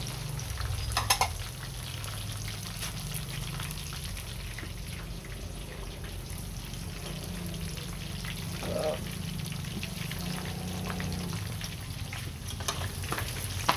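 Tofu fries in a pan with a continuous, even sizzle and crackle that holds steady for the whole stretch, close and moderately loud.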